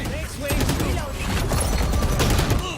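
Rapid bursts of gunfire in the tactical shooter Valorant crackle loudly and almost continuously, shot after shot overlapping with other in-game effects.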